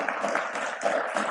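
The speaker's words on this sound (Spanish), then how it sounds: "José, Juana, un aplauso" A church congregation applauds to welcome first-time visitors, a steady dense wash of many hands clapping at once, sustained and even for the whole moment.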